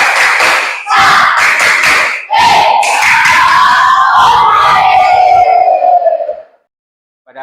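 A classroom of students does rhythmic spirit clapping in a patterned beat, with young voices shouting along. It is loud and close, then stops abruptly into silence.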